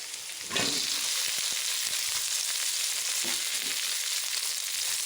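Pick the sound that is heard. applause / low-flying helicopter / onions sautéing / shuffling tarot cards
onions sautéing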